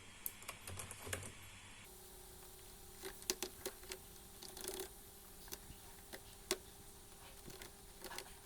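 A computer keyboard clicks while Arduino code is written, with sparse, irregular keystrokes and a few quick bursts, quiet and close over faint room hum.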